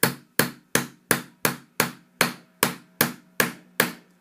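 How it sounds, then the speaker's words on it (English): A hammer texturing metal, eleven sharp ringing strikes in a steady even rhythm, close and loud, each decaying briefly before the next, with no talk. "changing the direction and hammering on top of a previously hammered texture gives you a more complex and more dense texture"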